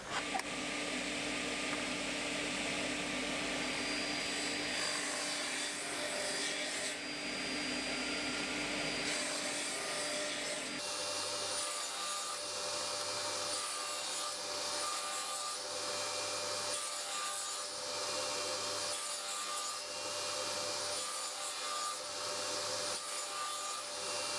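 Crosscut saw cutting a 10 mm housing joint across pine timber for antique bi-folding window shutters, a loud continuous rasping rub up close that changes tone midway and keeps going without speech.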